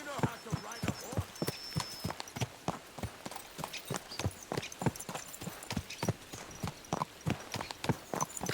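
Horse hooves clip-clopping in the medieval video game Kingdom Come Deliverance II, a steady, close rhythmic trot of sharp hoofbeats continuing throughout, with character voices speaking over parts of it.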